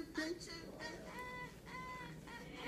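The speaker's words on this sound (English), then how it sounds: "The birds. I chirping." Birds calling outdoors in the morning, bright tonal chirps repeating in short phrases at moderate volume over a soft background hiss.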